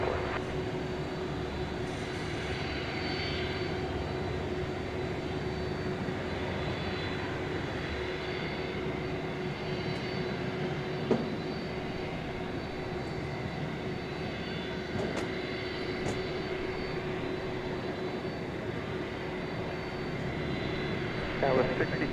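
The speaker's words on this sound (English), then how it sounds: "A Saab 340 Ameriflight. 24, full shorter runway 18 left at Whiskey Lima." Saab 340 turboprop of Ameriflight taking off from runway 18 left at DFW airport, a steady broad engine roar holding for over twenty seconds at an even level with a faint tonal hum, with radio chatter in the background.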